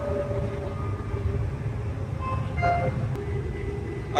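A streetcar rumbles steadily past with a low drone, occasional squeals and clanks from the wheels rising above it.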